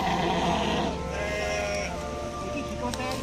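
Goats at a goat trader's place in Sumowono, Central Java, bleat repeatedly over a busy, noisy background, with some voices faintly audible.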